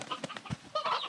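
Chickens cluck in the video game Slime Rancher 2, several short close clucks and squawks in a quick burst over a few seconds.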